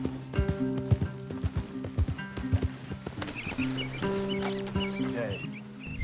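Horses in the video game Red Dead Redemption 2, with close, rhythmic hoof clip-clops forming an uneven walking pattern, a neigh and some clucking fowl around them, and a musical tone running underneath.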